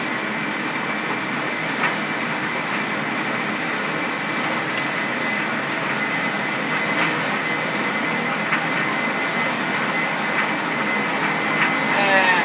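A Boeing 737 flight simulator roars with a steady, loud engine drone during the takeoff roll, an unbroken jet-like rumble that holds even throughout with no voices.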